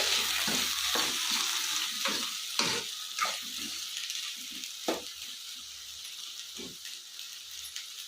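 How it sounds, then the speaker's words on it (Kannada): Cluster beans frying in a pan with turmeric, a steady broad sizzle running throughout with occasional louder stirring scrapes and clicks, close and moderately loud, no voices. "ಇದು ಸ್ವಲ್ಪ ಫ್ರೈ ಆಗಲಿ ಇದಕ್ಕೆ ನಾನು ಅರಿಶಿನ ಹಾಕ್ಕೊತಾ ಇದ್ದೀನಿ"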